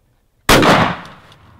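A single loud gunshot cracks out close by at a Nebraska turkey hunt, breaking near silence and rolling off in a fading echo.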